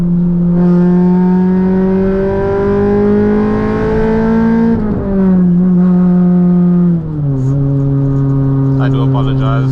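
A K24-swapped Honda FN2 Type R engine revs hard and holds against the limiter, a loud, sustained buzzing drone that climbs in pitch, drops briefly, then settles near the limiter again, heard from inside the car.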